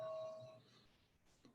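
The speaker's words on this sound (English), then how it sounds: "I wish you would warn me before your bell goes off" A doorbell sounds at the start, a clear sustained chime that rings out and fades over about half a second, followed by quiet room tone and a soft knock-like tap.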